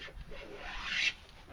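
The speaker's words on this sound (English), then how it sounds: "now I can edge plane this" A hand plane edge-planing a wooden board held on a workbench, heard as a single soft, close shaving stroke that swells and then cuts off, with a faint hiss.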